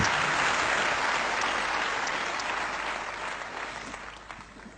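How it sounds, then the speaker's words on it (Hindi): A seminar audience claps loudly in a dense, continuous burst of applause that slowly fades over several seconds. "एक जोरदार तालियां इन दोनों चीजों के लिए।"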